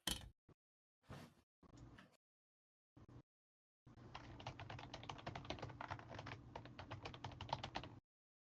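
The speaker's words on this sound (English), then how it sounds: "Are you typing aggressively for comedic effect" Computer keyboard typed on hard and fast, first a few separate bursts of keystrokes with pauses, then a long unbroken run of rapid, forceful clicking, close and clear.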